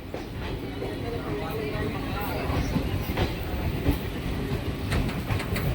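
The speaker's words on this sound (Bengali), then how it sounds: "তিন পাহাড় রেল স্টেশন থেকে ছেড়ে দিল আমাদের ট্রেন।" A passenger train on the Tinpahar–Rajmahal line pulls out of Tinpahar railway station, wheels rumbling with a steady clickety-clack and occasional sharper clanks, heard from on board while a voice talks over it.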